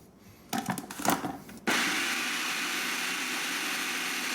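An electric blender running on a kuku sabzi herb mixture with baking powder added, first a few short bursts, then a steady close whirring drone that holds to the end.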